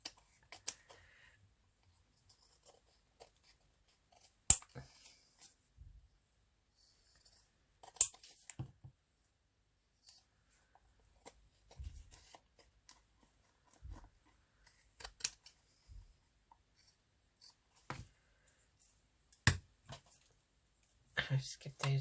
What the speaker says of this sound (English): This is where everything sticks to the scissors.